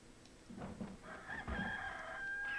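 Rooster crowing with chicken clucks in the Resident Evil 4 Separate Ways game, two short squawking calls over a low room ambience, fairly close and moderately loud with no talk.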